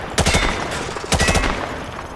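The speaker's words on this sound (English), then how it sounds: "Grab that weapon off the table and fire at the targets behind you." Gunfire from a weapon shot at range targets in Call of Duty Modern Warfare 2: two loud rapid bursts of automatic fire, a short pause between them, over a steady background bed.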